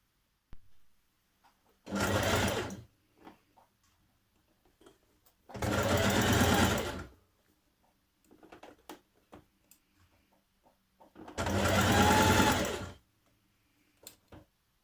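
A sewing machine stitches a dress seam in three separate bursts of rapid whirring, each a second or so long, with quiet pauses and small handling clicks between, close and without voices.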